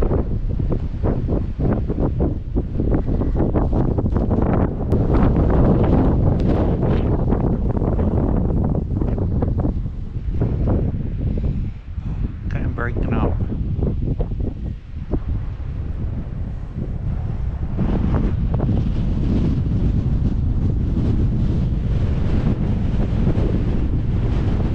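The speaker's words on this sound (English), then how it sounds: "Listen to that wind." Strong winter wind buffets the microphone steadily for the whole stretch, a loud, constant roaring rush that swells and dips slightly, with no speech.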